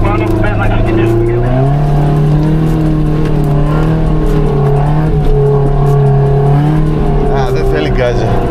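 An off-road vehicle engine revs loudly at a mud challenge event in Vermio, its pitch rising and holding steady throughout with some tire sounds, while crowd voices talk underneath.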